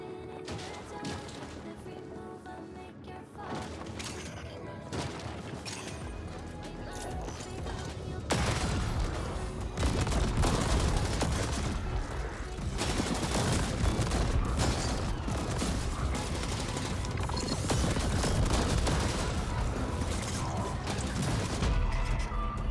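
Gunfire in The Ascent crackles in dense rapid bursts with clanks and impacts, growing louder and busier partway through amid a constant layer of game sound.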